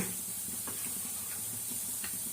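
Chillies sauté in a cooking pan with a soft, steady sizzling hiss, faint and continuous, broken only by occasional light ticks.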